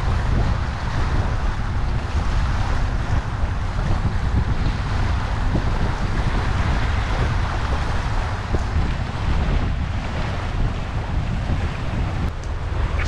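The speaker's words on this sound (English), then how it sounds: "So, Mrs. Tim's travels, did you enjoy sailing with Highland Ferries?" Highland Ferries ferry sailing from Cromarty to Nigg, with steady engine drone, water wash and wind buffeting the microphone, constant and fairly loud throughout with no voices.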